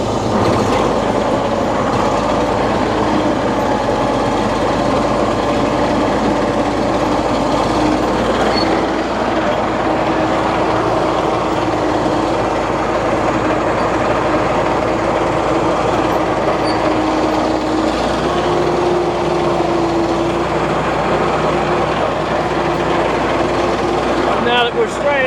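Caterpillar D6 bulldozer cutting fire breaks, its heavy diesel engine rumbling loudly and continuously with clanking tracks and a shifting whine, while someone talks throughout.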